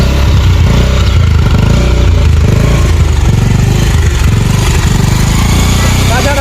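A motorcycle engine idles and revs close by, a rough continuous drone with clattering. People shout and talk over it.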